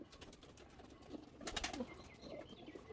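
Pigeons cooing softly on a rooftop garden where poultry and pigeons are kept, faint and somewhat distant, with a few light rustles and bird chirps in the background.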